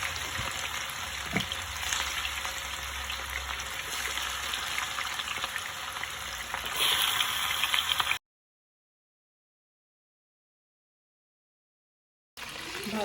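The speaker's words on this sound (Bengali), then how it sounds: "চিকেনগুলো একটু মচমচা করে ভেজে নেব" Chicken pieces fry in hot oil with a soft, continuous sizzle and crackle, close by and moderately quiet, before cutting to silence and briefly resuming at the end.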